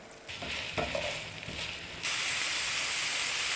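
Ground beef sizzles in melted butter in a pan for a kebab dish, a steady frying hiss that rises louder and denser after about two seconds, with a few soft stirring clicks early on.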